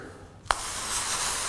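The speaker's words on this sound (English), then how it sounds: "a little spray powder from your local pharmacy. Spray it on the club face here." A can of foot powder spray is aimed at a golf driver's club face, a sharp click then a steady close hiss of aerosol spraying to the end.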